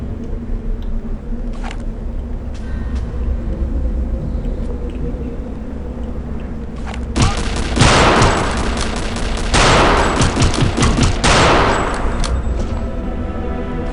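Bursts of rapid gunfire in the video game Return to Castle Wolfenstein crackle loudly over a steady background hum, clustering in several volleys during the second half.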